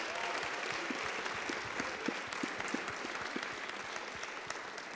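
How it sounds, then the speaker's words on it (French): An audience applauds at a meeting session, a steady patter of many hands clapping continuously at moderate distance, without a break. "Je pense qu'on peut vous applaudir."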